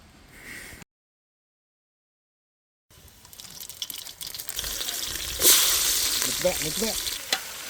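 Hot oil sizzles and crackles in a pot over an outdoor fire in a forest, starting faintly, cutting to silence, then returning louder with a sharp burst and steady frying.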